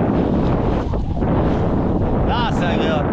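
Steady wind roars across a sailboat in about 14 knots of breeze, a continuous loud rush buffeting the microphone, with a voice speaking briefly over it.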